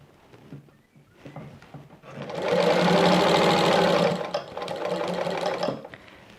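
A sewing machine stitches binding onto a patchwork piece in two steady bursts, a loud continuous run followed by a slightly softer one, with quiet handling noises before and a short pause between.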